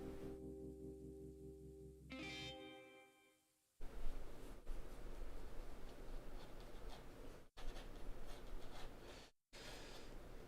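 Pen or pencil scratching on paper while drawing Stitch's head from Lilo and Stitch, a soft continuous rubbing texture after a brief musical passage at the start, broken by a couple of short gaps.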